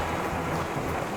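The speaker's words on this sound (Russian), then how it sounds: "дождь нас все-таки накрыл." Steady broadband rain hiss with a low rumble that may be distant thunder, caught during a summer feeder fishing outing with an open table and no shelter; continuous and fairly loud, with no voices.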